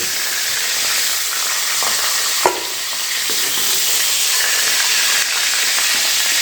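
Drumstick pods sizzle steadily in hot oil as they are stirred, a loud, continuous frying hiss with a few small pops and scrapes from the pan.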